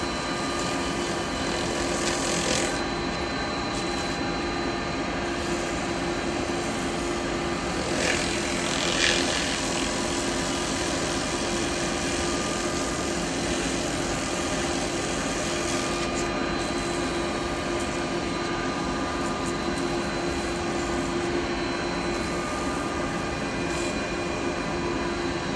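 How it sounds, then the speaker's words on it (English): Steady, continuous abrasive hiss and rumble as a live-edge yew tea light holder spins on a woodturning lathe while being sanded, holding an even level throughout with no talking. "Sanding done."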